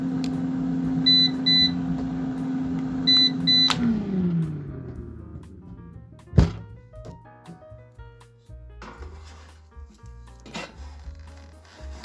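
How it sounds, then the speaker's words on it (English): Air fryer oven set to 325 Fahrenheit for baking cake batter: a few short electronic beeps over a steady fan hum that winds down, followed by a sharp clunk and quieter rattles and taps. "I'm going to bake my cake batter in an air fryer oven to 325 Fahrenheit for 25 to 45 minutes"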